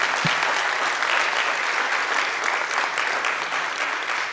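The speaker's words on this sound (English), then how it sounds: "Let's give them a huge round of applause." A live audience at an anniversary celebration gives a sustained round of applause for honored county members, a dense, even crowd clapping that continues steadily throughout.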